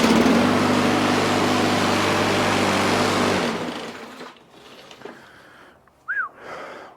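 A brand new lawn mower with a stuck engine runs after a pull start, a loud buzzing drone for about three seconds that then cuts out, leaving faint rustling and a brief squeak near the end.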